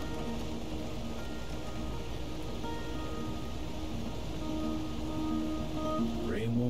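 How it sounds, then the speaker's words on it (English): A soft, steady patter of rain from the video game Road 96 falls throughout with faint tones drifting in and out, and a brief rising chirp near the end. "Rain won't quit, will it"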